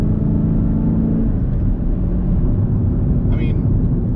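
A one-of-one 2021 Chevrolet Camaro ZL1 1LE is pushed hard through a series of turns, its engine and road noise forming a loud, steady low rumble that barely changes throughout.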